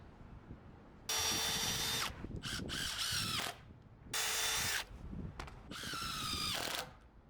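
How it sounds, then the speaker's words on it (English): A power drill drives screws into a wooden shed floor joist, with several loud whirring bursts separated by short pauses and clicks as the bit bites and stops. "and then locked in that second screw."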